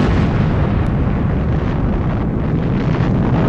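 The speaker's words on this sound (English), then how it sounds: "This massive weapon creates a blast radius stretching a mile in each direction." The MOAB bomb detonates during a test at Eglin Air Force Base, heard as a loud, continuous low rumbling roar that fills the whole clip with a dense, wind-like boom.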